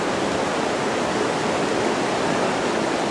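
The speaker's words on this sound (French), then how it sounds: "Regardez les grosses vagues qui traînent." Loud, steady rush of churning water at Cap-Chat fills the whole clip, a broad continuous roar like heavy waves breaking, with no voices.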